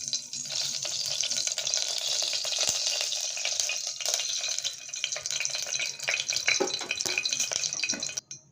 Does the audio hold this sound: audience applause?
no